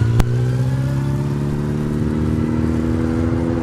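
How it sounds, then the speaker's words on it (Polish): A sport motorcycle engine revs steadily under increasing throttle, a loud, close, droning tone that climbs slowly in pitch, with one brief sharp click near the start. "Więcej gazu daj."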